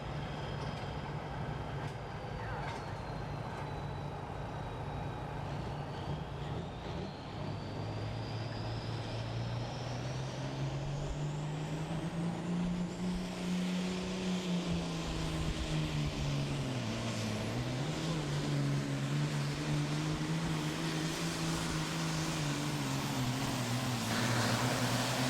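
A super farm tractor pulls a sled at a county fair tractor pull, its engine droning and climbing steadily in pitch over a long run, dipping briefly before pressing on, heard from a distance amid open-air background noise.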